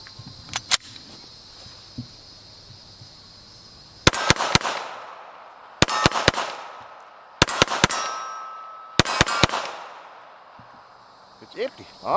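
Glock 21 SF .45 ACP pistol fired rapidly outdoors, four tight clusters of two or three sharp, loud cracks each, with echoes ringing out between groups after a single opening shot.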